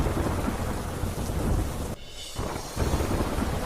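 Heavy rain showers pour with gusting wind as a dense, loud, continuous roar, with a brief dip in the middle before the downpour resumes, no voices.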